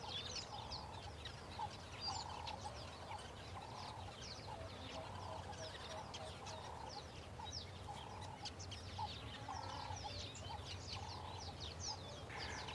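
Morning birds at a waterhole in the wild, giving faint, repeated calls at an even, regular rhythm over a quiet outdoor background, with scattered higher chirps between them.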